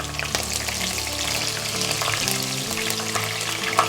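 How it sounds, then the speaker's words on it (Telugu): Cloves, cinnamon and green chillies sizzle in hot oil for egg semiya, a steady close frying crackle with small pops that carries through without a break. "ఆయిల్ వేడైన తర్వాత ఒక నాలుగు లవంగాలు కొంచెం దాల్చిన చెక్క పచ్చిమిరకాయలు"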